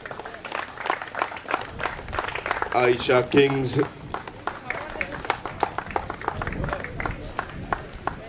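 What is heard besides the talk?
audience applause at cricket league opening ceremony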